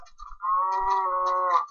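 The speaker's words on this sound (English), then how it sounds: "I found the cow." A cow in the video game Minecraft moos in one long, drawn-out tonal call, loud and close, standing alone with no talk over it.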